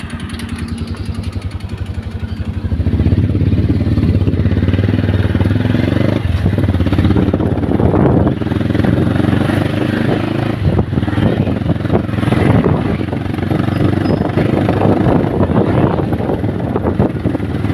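Motorcycle fitted with a modified exhaust, rumbling loud and close in a steady low drone that rises after a brief quieter opening and holds throughout, with faint voices underneath.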